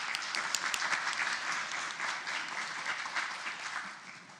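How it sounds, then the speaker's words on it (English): Audience applause at a city commission meeting for award recipients, with police and fire chiefs accepting on behalf of their departments; steady, dense clapping from a large crowd lasting throughout, gradually thinning toward the end. "please join me in one more round of applause for these outstanding individuals"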